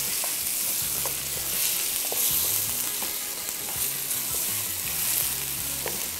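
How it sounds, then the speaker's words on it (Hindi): Chicken with spices frying in a pot, a loud, dense sizzle with repeated stirring scrapes in a steady rhythm, close by and uninterrupted by any voice. "मसाले शामिल करने के बाद इसको थोड़ा सा भुना,"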